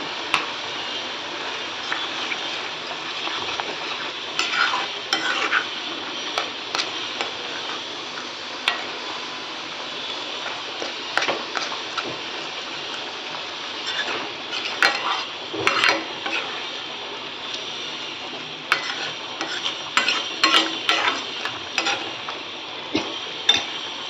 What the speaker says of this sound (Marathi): आपल्याला हे चमच्याने चालवत राहायचं आहे जोपर्यंत ग्रेव्हीला छान तेल सुटत नाही